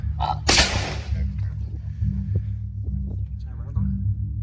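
A single sharp rifle shot cracks out near the start during an overnight public-land hunt in New Zealand, then a low steady hum and faint voices continue.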